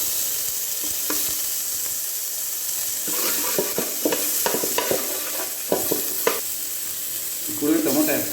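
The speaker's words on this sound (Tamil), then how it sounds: "இப்போ அதே பாத்திரத்தில் வெங்காயம் ஆட் பண்ணிடலாங்க." Onions frying in a pan for a mock mutton gravy, a soft sizzle at first, then a burst of clattering spatula stirs and scraping over steady frying, nearby and fairly loud.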